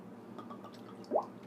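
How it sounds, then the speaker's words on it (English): A brief liquid pour of red velvet flavoring into a chocolate mixed drink, heard as a single short gurgling splash over a low, steady background hum. "you're going to put a splash of this red velvet flavoring"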